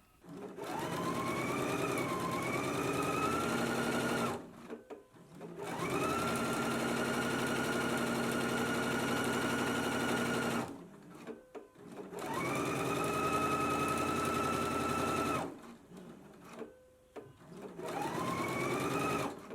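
A sewing machine stitches the long and short edges of fabric ties for a Zadie jumpsuit, running in four steady bursts of several seconds each, with brief quiet pauses between runs.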